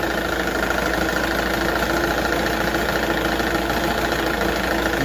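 A 1978 Johnson 6 hp outboard motor, fitted with the wrong spark plugs, runs at a steady idle, producing a loud, continuous close-up engine drone with an even mechanical patter throughout and no talking.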